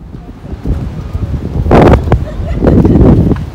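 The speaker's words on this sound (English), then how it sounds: "We're here, it's very windy." Strong gusts buffet the microphone in rumbling bursts, swelling loudly twice, with no clear voices.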